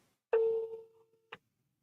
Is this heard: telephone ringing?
yes